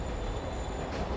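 A moving train in a Spider-Man video game gives a steady, fairly quiet rumble of rolling wheels with a faint metallic hiss, continuous and even, with no talking.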